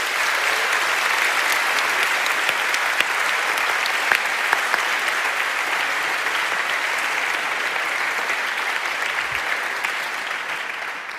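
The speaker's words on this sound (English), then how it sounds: "Can I have one more round of applause for our wonderful speakers, Dirk Bezemer and Marianne Mazzucato." A lecture audience gives sustained, dense applause for the speakers, an even wash of many hands clapping at steady volume from start to finish, with no talk over it.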